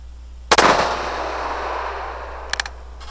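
Glock pistol shots firing inconsistent ammunition: one sharp, loud report followed by a long ringing decay, then a second quicker pair of pops near the end.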